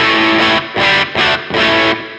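An electric guitar through an amp with reverb and the presence turned fully up plays four loud, bright distorted strums, each ringing for about half a second with short gaps between, alone and close.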